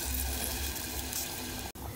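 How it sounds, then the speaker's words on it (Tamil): Water pours steadily into a pot for cooking rice with black-eyed peas, a continuous close rushing flow that cuts off abruptly near the end. "அந்த அளவுக்கு தண்ணி ஊற்றினாவே போதும்."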